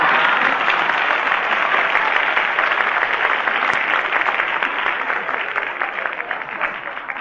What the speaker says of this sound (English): And I didn't ask for any applause either